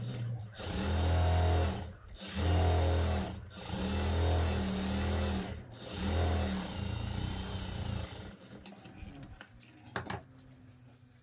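A sewing machine stitches silver blouse cloth in several loud, close bursts of rapid whirring, with short pauses between runs, then gives way to light handling clatter at the end.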